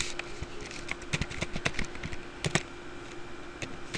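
Steady typing on a computer keyboard, with irregular close clicks and taps spread through the whole stretch and no voices over them.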